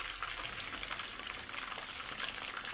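Chicken pieces fry in oil over medium heat, restaurant style, giving a soft, steady bubbling sizzle that is faint and continuous throughout, with no voices.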